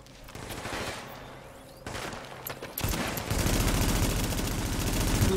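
Enemy gunfire in the video game The Division, from shotgun-armed attackers: rapid, dense bursts of shots that build from a scattered rattle into a loud, sustained fusillade, with no talk.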